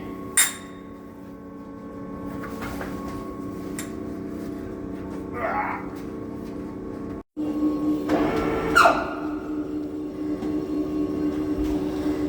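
A heavy overhead crane hums and whines steadily, with clanks and a rising mechanical drone as it hoists a load with a large hook, no voices.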